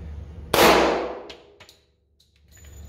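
A single sharp gunshot from an FK BRNO pistol fired at a range, loud and close, with a decaying echo tail and a couple of faint metallic clinks afterward.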